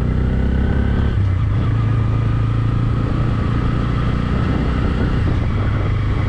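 A Bajaj Pulsar N160 motorcycle on a ride test, its engine droning loud and steady throughout with a slight rise in pitch partway, riding noise and wind rumble underneath.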